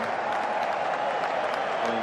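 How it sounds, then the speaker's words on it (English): English fans cheering and applauding at an Ashes cricket Test match in Australia, a dense, steady crowd roar throughout. "He could hear the cheer from the English in the crowd."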